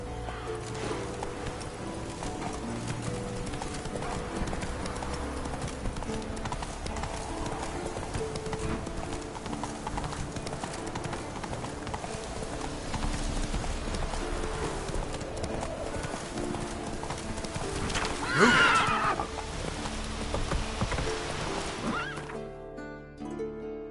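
Geralt's horse Roach gallops in The Witcher 3, with steady clip-clop hoofbeats running throughout and a brief neigh near the end, over game music and ambience.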